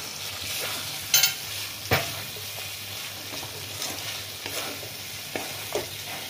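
Pointed gourd (potol) pieces frying in a pan with garam masala, a steady moderate sizzle broken by occasional scraping clinks of a spatula stirring them.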